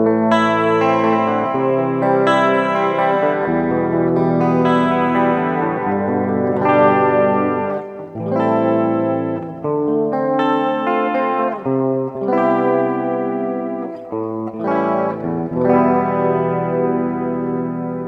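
An electric guitar plays through a Boss GT-100 amp and effects processor on its Soft Clean preset, with a sequence of chords and arpeggiated notes ringing out with chorus shimmer and light echo, alone and at close range.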